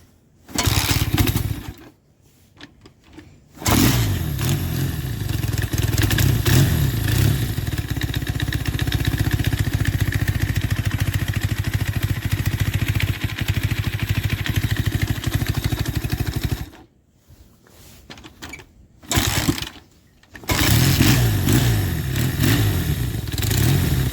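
A long-stored 1974 Kawasaki KZ400 motorcycle engine kicks over and catches, running loud and rough with a rattly idle, cutting out briefly and restarting near the end.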